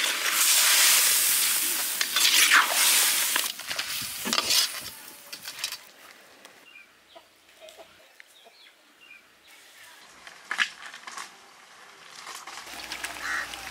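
Crab chettinad frying in a pan in an outdoor village kitchen, with a loud broadband sizzle that rises early and then eases to a softer crackle, plus occasional stirring scrapes and distant birds and fowl in the background.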